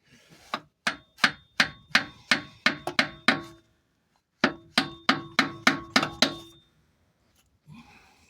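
Sharp metallic hammer blows, about a dozen in a steady rhythm, then a short pause and another run of similar strikes, close and loud.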